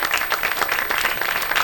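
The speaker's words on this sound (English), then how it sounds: "So I just wanted to give them a round of applause." Audience applause at a 2016 entrepreneurs roundtable panel discussion, a brief, steady burst of many hands clapping, fairly loud and continuous.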